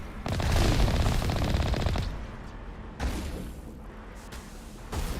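Enemy gunfire in the video game Mass Effect Legendary Edition: a loud burst of rapid automatic shots, then scattered single shots and booms, with no talk.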